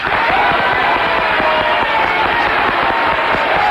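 A talk show studio audience applauds for a poll, a dense, steady wash of clapping with some crowd noise, loud and continuous throughout.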